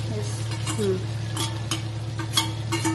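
Finely chopped garlic frying for herb rice, a gentle sizzle with intermittent stirring scrapes and light utensil taps over a low steady hum, close by.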